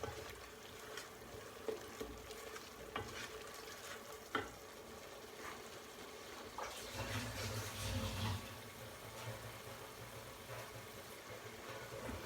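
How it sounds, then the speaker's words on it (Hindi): Spices roasting in oil in a pan for palak chana dal, a soft steady sizzle with occasional stirring clinks and a brief louder fry burst midway, no talk. "यहाँ हम मसालों को भूनेंगे 1 से 2 मिनट"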